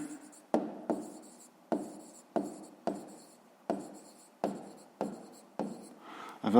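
Someone writes by hand on paper while working a fifth-grade maths exercise: about a dozen quick, close, scratchy pen strokes in a steady rhythm, each a short burst that tails off.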